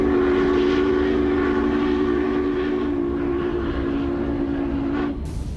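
Union Pacific Challenger 3985 steam locomotive sounds a loud, steady multi-tone steam whistle held for about five seconds before it cuts off abruptly, with rumbling running noise beneath.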